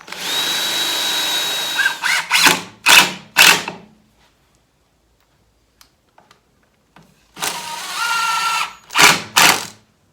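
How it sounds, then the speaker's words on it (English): A power drill countersinks screw holes in the wooden base of a circular blade sharpener stand, with two bursts of loud whirring separated by a quiet gap, each holding a long run and several short pulsed revs, close up and without speech. "I drilled 4 holes. I'm just going to countersink them and then put in some screws."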